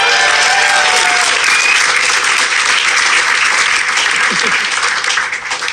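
Loud, dense audience applause at a stand-up comedy show, continuous clapping filling the room with some crowd cheering mixed in, easing slightly at the very end.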